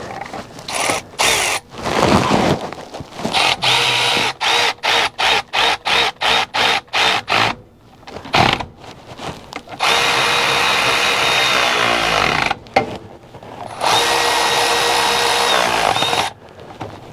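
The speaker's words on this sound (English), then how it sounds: "Install the bolts and torque to spec." Power tool driving and torquing bolts during vehicle maintenance, loud close bursts: a rapid series of short repeated pulses, then a few isolated hits, then two long sustained whirring runs separated by brief pauses, no talk.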